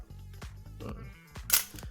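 A Nikon FM2 film camera being worked by hand, giving a few sharp mechanical clicks of the shutter and advance lever at close range, quiet and alone, with one brighter snap near the end.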